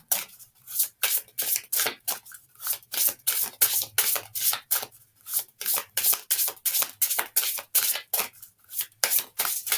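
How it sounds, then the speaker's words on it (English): A deck of cards is shuffled again and again up close, bursts of crisp riffling and rubbing in a fast, steady rhythm with short gaps between them. "I'm just shuffling to make sure I get them all shuffled"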